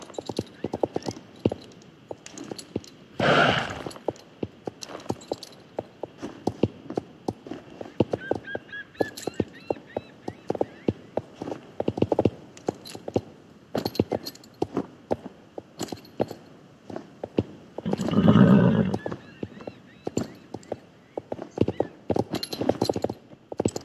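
Horse hooves clop steadily in the video game Star Stable as the horse climbs stairs, a dense run of sharp, close hoof strikes with a louder burst midway and brief whinny-like tones, no talking.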